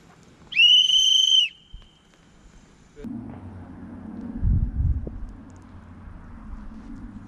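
A whistle is blown once, a sharp, loud, wavering blast lasting under a second, followed by low rumbling and wind-like noise at a summer youth camp.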